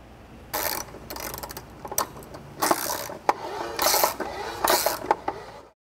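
Ratchet wrench on a 3/8 inch extension cranking the gearbox of an electric trailer leveling jack: repeated bursts of rapid clicking pawl strokes with brief pauses between, close and fairly loud, no talking.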